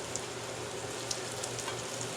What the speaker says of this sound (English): these are frying up really nice